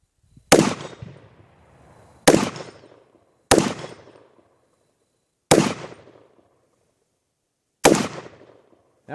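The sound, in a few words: 300 Blackout AR rifle gunshots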